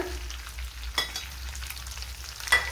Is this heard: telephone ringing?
no